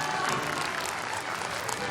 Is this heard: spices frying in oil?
no